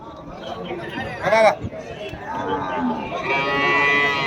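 Cattle at a livestock sale give a loud, close moo midway, with more cattle calls and crowd chatter continuing around it in a busy market setting.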